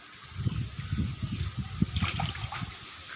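A girl bathing in water sets off splashing and sloshing that runs in quick bursts for a few seconds. Brief voices come in near the end.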